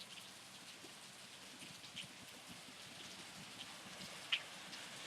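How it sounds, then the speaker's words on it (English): Heavy rain mixed with hail falls steadily on a rainy day in Redlands, California, a soft continuous hiss with scattered faint drop patter and occasional small ticks, heard from indoors at a distance. "Rain and hail."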